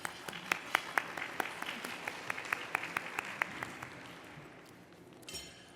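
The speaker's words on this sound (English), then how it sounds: "Can we give them a round of applause, please?" Luncheon audience applauding industry career panel speakers, a thin round of clapping with a few sharp close claps standing out before it dies away.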